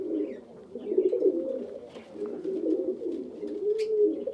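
A pair of black checker Lahori Sirazi pigeons coo close by, soft throaty rolling calls repeating in overlapping phrases over a few seconds, with faint chirps in the background.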